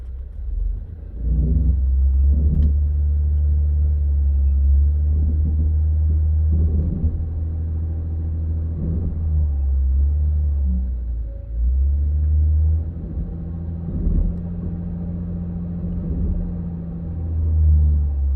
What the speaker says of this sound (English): Just stall testing the engine with my foot on the brake.